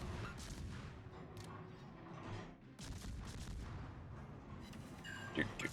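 Booster weapon fire in a video game during a reload, heard as a continuous busy barrage of booming shots and mechanical clatter, with a louder burst near the end.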